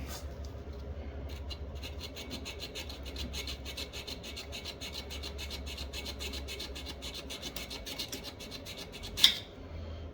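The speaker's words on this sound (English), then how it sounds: "Now I'm just gonna hold this and slide that screwdriver out" A screwdriver scrapes and slides out of a part on a 1971 Elan Ski-Doo snowmobile, a continuous close metallic rasping with a rapid run of fine clicks, ending in a single sharp clink.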